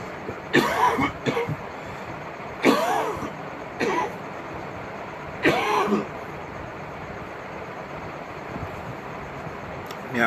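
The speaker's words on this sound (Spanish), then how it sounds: "Me ha vuelto esta tos alérgica o no sé qué, que no se me termina de ir." Allergic coughing from a man, three distinct bursts of one to two harsh coughs each, close and moderately loud over a faint background hum, with no speech between them.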